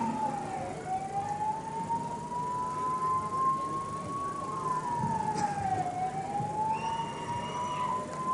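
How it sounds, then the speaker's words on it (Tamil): An ambulance siren wails slowly up and down at a crowded street gathering, moderately near, sounding over a steady bed of crowd and traffic noise. "ஆம்புலன்ஸ் வருது வழி எடுக்கப்பா"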